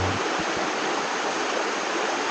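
A river rushes beside a campsite at a nature camp in Liliw, Laguna, giving a loud, steady, broadband roar of flowing water from close by that never lets up.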